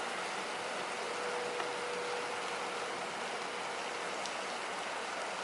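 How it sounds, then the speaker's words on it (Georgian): Heavy rain pours down on a cold, foggy day with mountains hidden in mist, a steady, even hiss of fairly faint downpour that continues unbroken with no voices. "აი ესე წვიმს."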